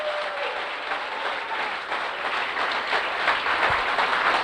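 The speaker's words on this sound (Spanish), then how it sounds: "Denle un fuerte aplauso al Señor en esta mañana." A church congregation claps together during a morning service, a steady broadband wash of applause sustained throughout with no voices over it.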